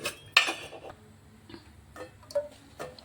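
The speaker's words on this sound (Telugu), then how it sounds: "పోపు కొరకు అయితే స్టవ్ ఆన్ చేసుకొని స్టవ్ పైన బౌల్ పెట్టాను" Metal bowl set down on a kitchen stove while preparing a seasoning for an onion chutney, a few sharp clinks and taps with quieter knocks in between.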